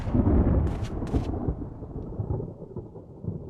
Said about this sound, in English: Ooh, that thunder.